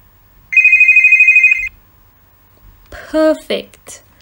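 A telephone ringtone sound effect from the Episode Interactive story game rings as one clear, steady electronic trill for about a second, followed after a pause by a short burst of brighter game sounds.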